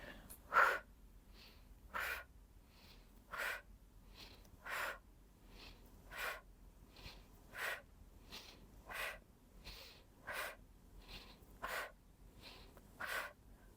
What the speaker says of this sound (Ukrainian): Прес зібрали, глибокий вдих і на видих.